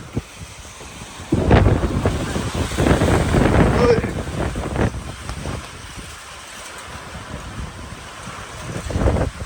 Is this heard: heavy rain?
yes